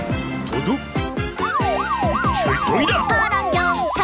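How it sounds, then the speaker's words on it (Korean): A cartoon police car siren in a children's song wails in a rapid up-and-down warble, loud and close, over bouncy musical accompaniment. "경찰차 비용비용 달려요"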